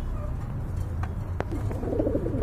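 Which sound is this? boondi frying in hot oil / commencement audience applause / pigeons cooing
pigeons cooing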